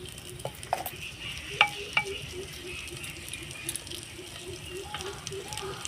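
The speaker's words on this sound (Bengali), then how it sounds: "লো ফ্লেমে দিয়ে পেঁয়াজটাকে বাউন্ড করে ভেজে নিতে হবে" Sliced onions fry over a low flame in a pot for handi chicken, giving a steady soft sizzle while a utensil stirs with occasional close clinks against the metal.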